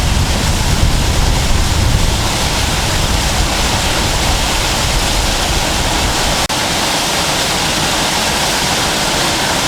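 Waterfall pouring into a pond, a steady broadband rush of falling water that stays loud and constant throughout, with a brief dip partway through and no voices.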